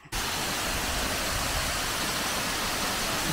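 The Kurudua waterfall produces a dense, constant rushing roar that starts abruptly and stays loud and even throughout, with no other sounds standing out.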